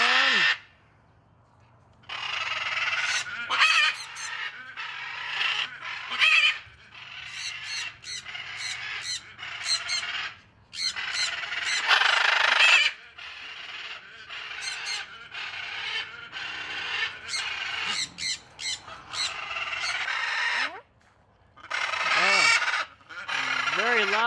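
Very loud birds honk repeatedly outdoors in Tucson, Arizona, with harsh, close calls arriving in bursts and short pauses over roughly twenty-four seconds.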